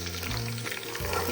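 Green peas frying with softened onion in a pan, a dense continuous close sizzle with a soft stirring shift partway through, no talking.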